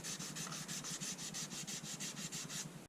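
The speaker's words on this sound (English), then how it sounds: "I'm just using some IPA and a rag to get some of the red Sharpie ink off." Rag soaked in IPA rubbed back and forth on copper sheet to lift red marker ink, a steady rhythmic rasping of about a dozen even strokes, close and alone.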